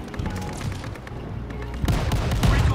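Video game gunfire from a Welgun in a shooter match, sustained loud shots running through the clip and swelling denser near the end, with no clear talk over it.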